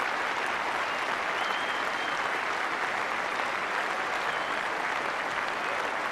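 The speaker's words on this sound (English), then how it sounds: "The big applause, players' balcony." A cricket crowd gives steady, sustained applause at a 1990 England v India Test match as the England batsman Atherton reaches his century before his home crowd, a broad even clapping that fills the ground without a break.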